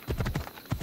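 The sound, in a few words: horse hooves galloping in video game Assassin's Creed Odyssey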